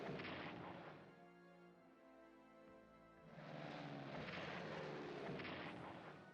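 Kamikaze aircraft attack a battleship in the strategy game Strategic Command Pacific at the Battle of Okinawa, with two loud rumbling bursts of engine roar and explosive fire around a quieter droning stretch.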